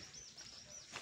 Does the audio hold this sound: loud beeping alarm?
no